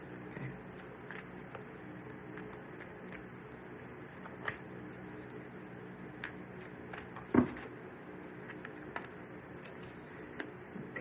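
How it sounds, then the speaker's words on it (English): Tarot cards are shuffled quietly and continuously, soft riffling and sliding with a few sharper taps, faint and close with no talk over it. "I'm going to shuffle and I'll show you the cards"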